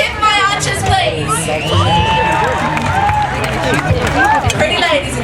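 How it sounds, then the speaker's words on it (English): Crowd at a medieval fair cheering for the archers, a dense sustained roar of shouts, whoops and children's voices with scattered clapping throughout. "Lords and ladies, can I have a cheer for my archers, please?"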